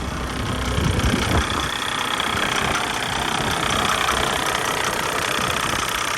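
A Mercedes E300 diesel engine idles steadily right after being revived, its low, even rumble continuous and close, with no talking over it.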